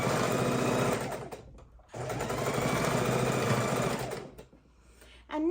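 A sewing machine stitching quilt pieces for the second row, running in a loud, close whir that stops briefly, restarts for a longer run, then fades out near the end.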